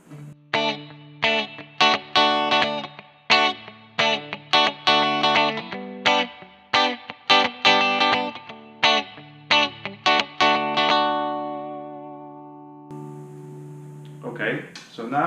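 Rockabilly electric guitar playing the verse of a song in short staccato strums, a run of clipped bright chord stabs with gaps between them, ending on one long ringing chord.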